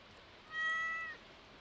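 A single short cat meow from the video game Stardew Valley, clear and fairly quiet against a near-silent background.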